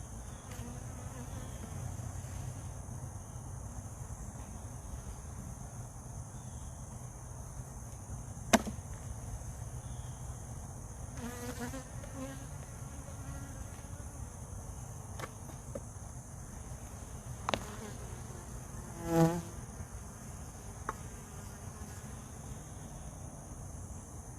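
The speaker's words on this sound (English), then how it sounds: "There's tons of bees in here." Honey bees buzzing in and around a hive: a faint, steady insect hum runs throughout, broken by a few sharp knocks and brief louder buzzes close by.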